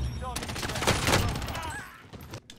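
A FAMAS rifle fires in Call of Duty Warzone as a dense burst of close shots, fading into softer scattered game sounds, with a voice talking over it.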